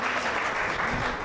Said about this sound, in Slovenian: hvala lepa za lep aplavz